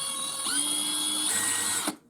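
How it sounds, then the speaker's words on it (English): A power drill whirs briefly, spinning a screw that won't tighten while building large storage furniture, with a steady motor whine that shifts pitch once and then stops abruptly. "The drill is rotating and this stays in place, so I cannot tighten it."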